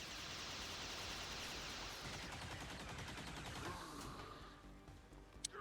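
Loud frag grenade blast in a Long War modded strategy game, a dense crackling burst of noise filling the whole stretch and slowly thinning out toward the end, with no voices.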